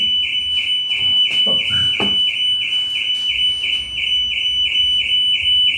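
A car alarm on a car parked directly opposite blares with a loud, continuous electronic tone that holds steady throughout, with a brief faint clatter early on.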